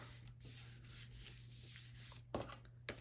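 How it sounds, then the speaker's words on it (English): Paper on a mini album pop-up page is burnished flat by hand, giving a soft, steady close rubbing with a couple of small taps near the end, quiet and with no talk. "Give it a nice burnish down."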